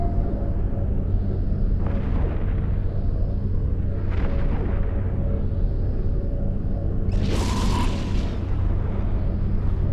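Ship weapons firing in EVE Echoes during a solo PvP fight flown in an Arbitrator II, three muffled booming blasts spaced a couple of seconds apart over a constant deep engine drone, with no talking.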